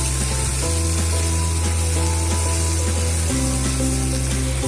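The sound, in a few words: potato, onion and green chili frying in a pan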